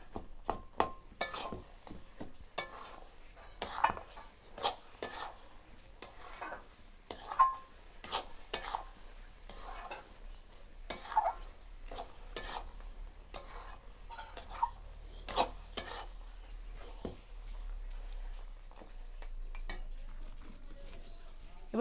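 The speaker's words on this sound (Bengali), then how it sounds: "ঘন ঘন নাড়তে হবে" Thick tamarind sweet-sour-spicy pickle stirred constantly in a pot, a spoon scraping the base in quick, irregular strokes with occasional clinks, fairly faint, continuing without a break.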